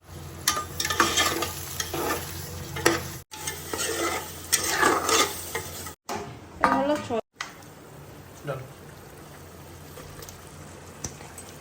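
Mutton curry frying and being stirred in a pan, the meat cooking down with masala, garlic and spices: a steady sizzle broken by the scraping of a spoon, with a few short pauses and talk running through.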